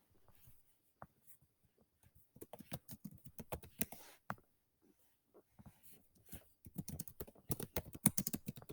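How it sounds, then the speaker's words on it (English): Computer keyboard typing close by and fairly quiet, irregular bursts of key clicks with short pauses, speeding into a denser flurry toward the end. "Let me type this out."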